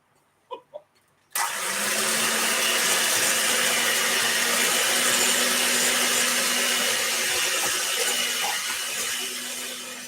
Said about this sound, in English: We're going to turn the beater on for a minute. We're going to really get it nice and smooth and blend it together.